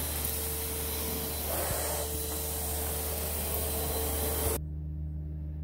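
A Henry HVR200-11 canister vacuum cleaner runs during an airflow test, a steady loud hissing rush of air with a constant motor hum that cuts off sharply near the end, leaving a quieter low hum.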